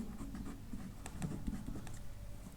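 A marker squeaks and taps across a board in short, close strokes, quiet and dry, with no talk over it.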